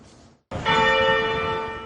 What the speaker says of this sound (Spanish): Las campanas sonaron al mediodía este lunes desde la Catedral Anglicana de St. George en Ciudad del Cabo, Sudáfrica